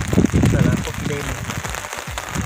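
Rain patters steadily on an outdoor ridge, a continuous wash of drops heard under close conversation between people.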